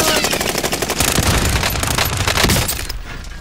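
Rapid automatic gunfire in Call of Duty: Modern Warfare, loud and sustained, dense bursts of machine-gun fire with overlapping shots continuing throughout before easing slightly near the end.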